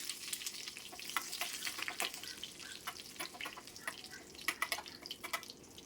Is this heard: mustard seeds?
yes